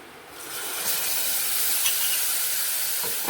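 Curd poured into a hot tempering on a switched-off stove gives a sudden bright sizzle that swells after the first half second and holds as a steady close hiss for a few seconds.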